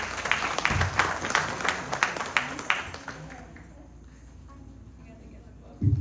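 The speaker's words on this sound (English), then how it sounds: "give Sadhana ji, the mom, Usha, a nice round of applause" Audience applause for Usha at her birthday celebration: a burst of clapping with sharp rhythmic hand claps for the first few seconds that fades into quiet room tone before a brief bump near the end.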